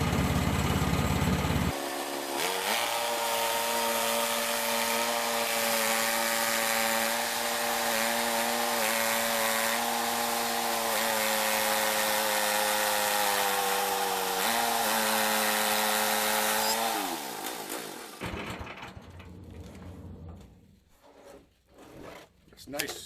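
A cheap Chinese sawmill's engine-driven blade cuts through a red oak log, a loud, steady whining buzz lasting about fifteen seconds before winding down into quieter shuffling and handling noises.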